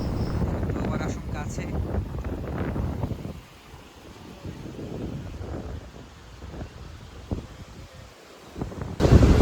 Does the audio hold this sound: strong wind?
yes